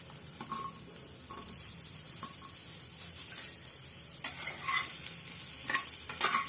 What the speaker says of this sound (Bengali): আলুগুলো এক মিনিটের মতো একটু ভেজে নেব